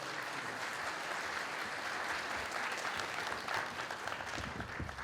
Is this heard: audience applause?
yes